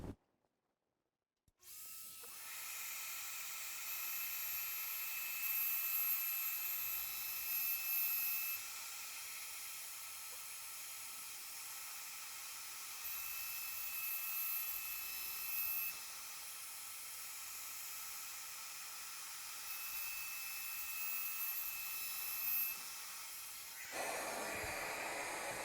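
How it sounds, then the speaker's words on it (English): A CNC router milling soft wood at set depth and cutter diameter, giving a steady high whine and hiss that starts abruptly after a brief silence and runs continuously with small shifts in loudness, fairly faint and without speech. "So I'm cutting to the right depth, right cutter diameter."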